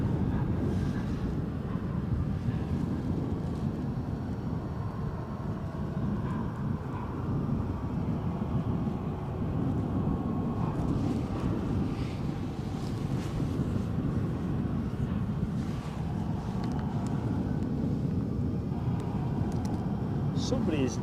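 At Edinburgh airport, a steady, broad roar of aircraft engines runs without a break, with wind buffeting the microphone and someone talking over it at times.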